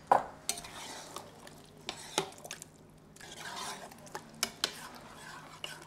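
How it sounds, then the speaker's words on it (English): Canned chickpeas tumble into a cooking pot with their liquid for a Persian butternut squash tagine, giving a few close clattering knocks and wet splashes against the pot, spread over several seconds with no talking. "Okay, in go the chickpeas."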